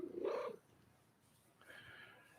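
A cat gives one loud, close meow, then a softer, higher call follows after a short pause.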